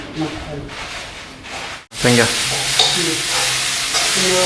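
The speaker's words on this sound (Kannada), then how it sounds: "ಈಗ ಸ್ವಲ್ಪ ಸ್ವಲ್ಪ ಮಸಾಲೆ ಎಲ್ಲ ಹಾಕಿ ನಿಮಗೆ ಫ್ರೈ ಮಾಡಿ ನಾನು ತೋರಿಸ್ತೇನೆ" Masala spices frying in an oily pan while being stirred, a loud continuous sizzle with scraping stir strokes, a short break near the start, and a voice faintly underneath.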